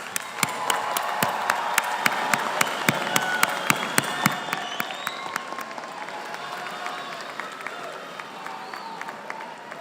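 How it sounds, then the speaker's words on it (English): A crowd applauds graduates at a 2023 business school master's commencement, sharp individual claps standing out over a dense wash of clapping that thins and fades over about ten seconds. "Let's do one more round of applause for all of our graduates."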